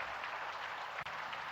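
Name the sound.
applause for the Chief Minister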